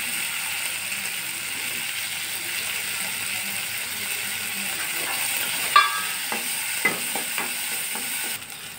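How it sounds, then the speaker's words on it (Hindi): A spoon stirs turmeric into a leftover-lentil pithi mixture in a frying pan, with a steady sizzle throughout and a few distinct scraping strokes toward the end, close and fairly loud. "अब इसी में हम थोड़ा सा हल्दी डाल देंगे और इसे अच्छे से डालकर मिला लेंगे।"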